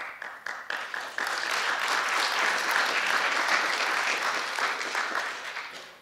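Audience applause fills a university address on liberal arts by the UBC president, starting with a few scattered claps and swelling into sustained, dense clapping that fades slightly toward the end.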